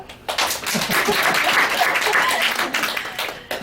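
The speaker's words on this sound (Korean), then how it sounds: "박수!" An audience at a classroom team project presentation breaks into dense, sustained applause that swells and fades over a few seconds.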